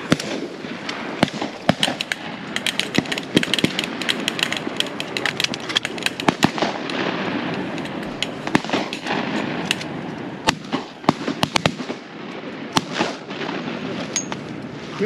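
Shotguns fire during a diving-duck hunt for canvasbacks: many sharp, loud reports, single and in quick clusters, crack out irregularly over a steady outdoor background, some near and some farther off.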